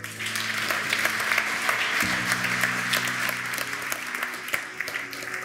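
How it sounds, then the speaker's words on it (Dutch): Warm applause from a seated audience greets the mayor at a community knitting-sweater event, steady dense clapping filling the room with a faint tonal hum underneath. "Mag ik een warm applaus voor onze burgemeester Abu Talib."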